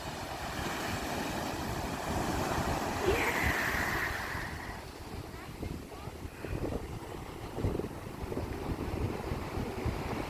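Surf rushes and breaks in a broad, roaring wash at Pokai Bay, Oahu, with wind buffeting the microphone throughout and a brief higher hiss of spray partway through.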